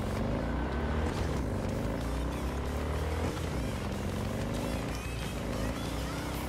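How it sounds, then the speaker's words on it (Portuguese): Jack's motorcycle in Cyberpunk 2077 rumbles with a Harley-like engine note, a loud steady drone with small pitch shifts as it rides, while a voice talks over it. "Ainda mais por ela ter esse som de Harley,"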